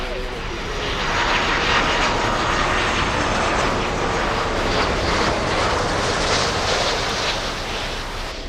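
A Lufthansa airliner, flight LH462, landing at Miami Airport, its engine roar loud and steady throughout as a broad rushing drone that swells slightly then holds.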